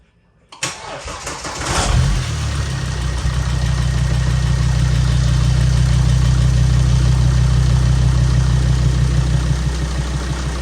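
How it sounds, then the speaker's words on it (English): A Volvo 2.4 D5 diesel engine cranks briefly, catches and settles into a loud, steady idle with a constant low rumble close by. "I'm ready to start the car"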